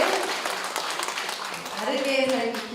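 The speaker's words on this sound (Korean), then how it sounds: "다시 한번 큰 박수 부탁드립니다" Audience applause fills a celebration ceremony, steady and fairly loud throughout, with an announcer's voice speaking over the clapping.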